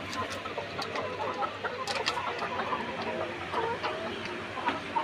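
Layer hens cluck and chatter in a busy, continuous flock on a hot day, a steady murmur of overlapping calls with occasional sharper squawks close by.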